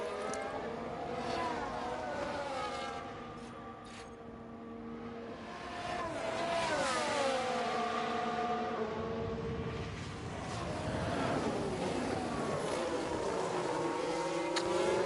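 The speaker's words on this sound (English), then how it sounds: "The engine sounds so nice." Formula 1 cars with V6 hybrid engines racing in the F1 Manager 22 game: a loud, continuous engine whine that rises and falls in pitch through gear changes, steady throughout with faint talk in the background.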